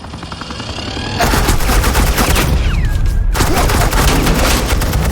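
Rapid automatic gunfire bursts from Agent Quinn's suppressing fire in Batman: The Telltale Series game, loud and sustained across the whole stretch, with a brief whistling tone partway through.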